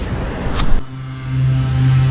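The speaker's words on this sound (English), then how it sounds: "Sorry for the leaf blower noise." A leaf blower drones nearby outdoors during metal detecting, first a loud broad rush of air, then a steadier engine hum that holds to the end with no talking.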